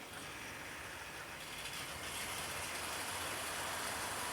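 Wrenn model train locomotives haul a rake of twenty coaches with a steady, close mechanical whirring rattle that grows slightly louder, with no talking.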